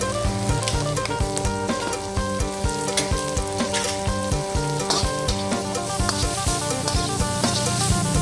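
Pork belly stir-fried with cabbage in a hot pan gives a steady, loud sizzle with repeated clattering stirring strokes, while tonal background music plays underneath throughout.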